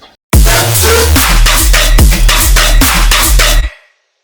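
A loud synthesized riddim bass made in Serum, with deep sub bass, pulses in a bouncing triplet rhythm, hitting repeatedly before cutting off abruptly.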